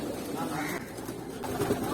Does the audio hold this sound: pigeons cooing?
yes